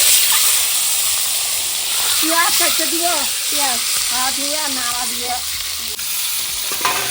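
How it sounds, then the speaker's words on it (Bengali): Eggs fry in a pan with a loud, continuous sizzle and crackle, while a voice talks briefly over the hiss partway through. "এই যে এখন ডিমগুলো ভাজবো"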